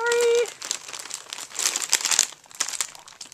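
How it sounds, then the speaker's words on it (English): Food packaging is unwrapped at close range, its plastic crinkling and crackling in uneven bursts that peak midway, after a brief steady electronic tone at the start. "Sorry about the crinkling."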